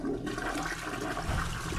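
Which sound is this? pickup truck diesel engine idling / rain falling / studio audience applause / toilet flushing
toilet flushing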